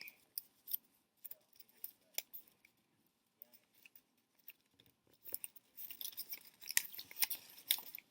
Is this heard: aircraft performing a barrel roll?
no